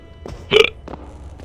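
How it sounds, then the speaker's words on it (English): A single loud, abrupt hiccup sits between softer breathy catches, one short burst standing out clearly at close range. "Oh, I'm getting hiccups."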